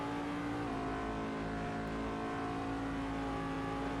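Race car engine at Road Atlanta during the 6 Hours endurance race, a loud, steady high-revving drone heard from onboard the car with one brief shift in pitch.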